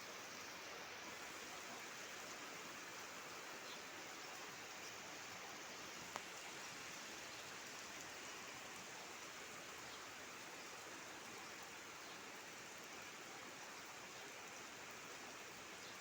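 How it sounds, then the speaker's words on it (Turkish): Heavy thunderstorm rain with large drops pours steadily in Mersin, Turkey, a dense, constant hiss with no letup and no voices. "Büyük taneli yağmur işte"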